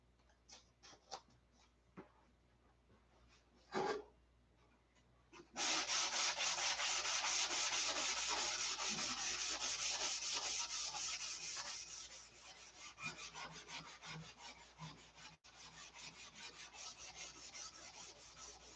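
Hand sanding with a sanding block on a doped model airplane surface, including the elevator: a few short scrapes, then a long loud continuous rubbing stretch that eases into softer, uneven strokes, close up.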